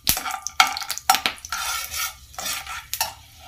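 Bay leaf, cinnamon, cloves and cardamom frying in oil while a spoon stirs and scrapes the pan, giving a quick run of clinks and scrapes over a soft sizzle, close and fairly loud.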